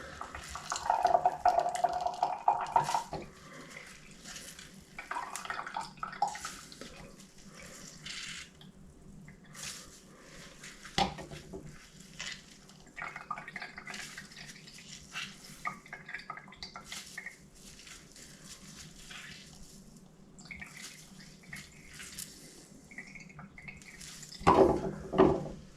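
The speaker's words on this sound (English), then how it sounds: "just try and squeeze as much of the juice out of the rhubarb" Gin-soaked rhubarb is squeezed by hand to press out its juice, giving scattered wet drips, trickles and light clinks of kitchenware, close and fairly quiet, with a louder liquid burst near the end.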